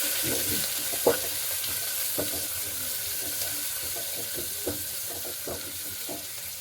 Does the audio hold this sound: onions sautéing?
yes